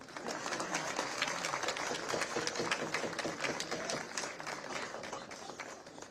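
Audience applause at a political address by a state chief minister in India, a dense, fairly distant patter of many hands sustained evenly throughout.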